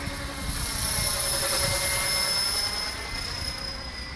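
A T-REX 600 RC helicopter flies steadily nearby, a continuous whining rotor and motor drone holding high pitched tones, alone with no talk.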